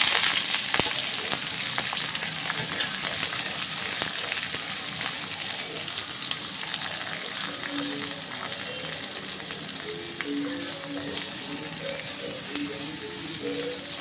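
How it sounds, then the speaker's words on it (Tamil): Chopped onion and curry leaves fry in hot oil for a bhindi masala, a steady close sizzle running throughout with occasional stirring scrapes and no talk. "இந்த டைமில் நான் ஆனியனும் கருவேப்பிலை போட்டுக்கிறேன்"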